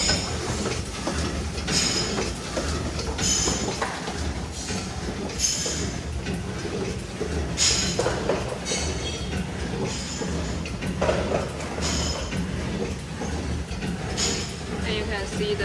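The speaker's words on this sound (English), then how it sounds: "We open the automatic switch button to operate the machine." An automatic cellophane packing machine runs continuously with a dense, rattling mechanical clatter and rhythmic clicking, steady and fairly loud throughout.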